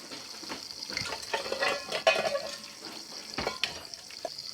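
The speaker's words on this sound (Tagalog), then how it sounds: "Hugas muna tayo ng pinggan" Running tap water splashes steadily while dishes clink and scrape now and then, close up, with no talking.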